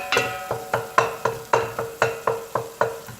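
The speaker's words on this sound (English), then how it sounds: "Our vegetables continue to simmer," Vegetables and herbs simmer in a pot of arrowroot soup with tomatoes breaking down, stirred with a utensil that scrapes and knocks against the pot in a steady rhythm of about ten close strokes, over a soft bubbling sizzle.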